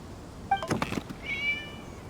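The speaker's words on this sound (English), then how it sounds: "It was just a cat." A cat meows once or twice in Genshin Impact, a short rising cry followed by a thin, drawn-out whine, with faint background ambience.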